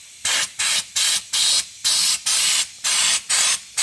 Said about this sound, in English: let's see if I can engage this with my leaky air hose. And when you pull the trigger, sprays out the sides.